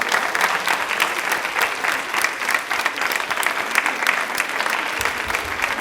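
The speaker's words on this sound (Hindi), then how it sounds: "तालियां भी परफॉर्मेंस के लिए जोरदार होनी चाहिए" Loud, sustained audience applause fills a Rajasthan TV quiz show studio after a Women's Day performance, an even wash of many hands clapping for nearly six seconds with no voices.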